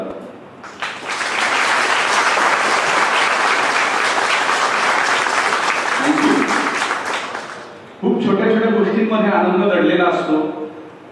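A lecture audience at a ceremony bursting into loud, sustained applause that fills the room for several seconds, then fading as a voice resumes talking.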